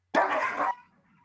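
A single sharp puppy bark, close and fairly loud, lasting about half a second before fading into quiet.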